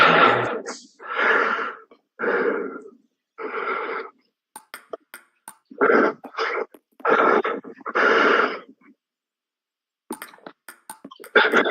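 Heavy breathing comes through a player's open microphone during an online tournament match: a series of loud, raspy, wheezy breaths in irregular bursts separated by silences, close to the mic.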